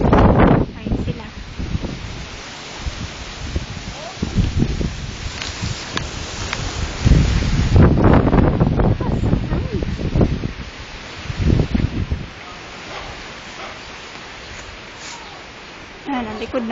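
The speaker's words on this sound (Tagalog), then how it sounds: "Lakas ng hangin." Strong wind buffeting the microphone in heavy gusts, with rumbling bursts rising and falling over outdoor background noise.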